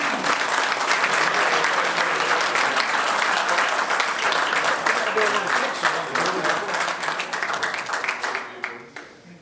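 Alumni awards dinner audience applauding an honoree, sustained loud clapping with individual claps standing out, holding steady before tapering away at the end.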